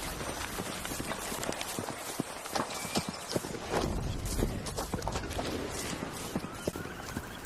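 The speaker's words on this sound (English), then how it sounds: "It's a robotic horse, a completely hydrogen powered." A hydrogen-powered robotic horse walks off-road with a steady, close clip-clop of hooves over a noisy outdoor background.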